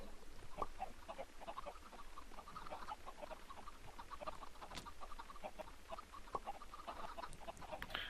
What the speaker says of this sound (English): Can you hear the eggs popping out of these chickens?